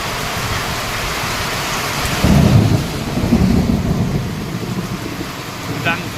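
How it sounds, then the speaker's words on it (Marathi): A low rumble of thunder rolls in over steady heavy rain in Niphad, with roadside traffic noise in the background. "कडकडाट"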